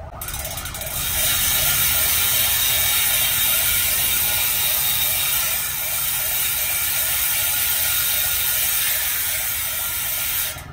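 A rapid, continuous buzzing click of a bicycle hub freewheel spinning, loud and close, with a faint warbling pitch that rises and falls.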